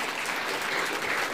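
Worshippers at a church service break into lively, enthusiastic clapping for God, a full and continuous burst of many hands that stays even throughout.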